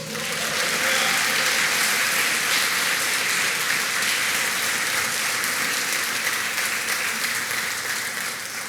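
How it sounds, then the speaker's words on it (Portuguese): Dense, sustained applause from a large church congregation, steady and loud throughout, with no voices standing out. "Aplauda o Senhor Jesus"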